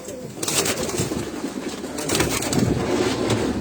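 Pairs of caged pigeons coo continuously up close, their overlapping calls mixed with rustling and occasional wing flutters.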